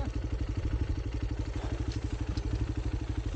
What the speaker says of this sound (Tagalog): Ayun na naman motor ko.